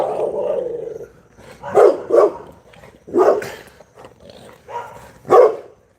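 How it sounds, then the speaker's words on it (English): A dog named Lucky, an Americane da Presa, barks in several loud bursts spaced through the moment, with a lower growl-like murmur at the start and faint background noise between barks. "He hears Scoop growling, y'all. He get to barking."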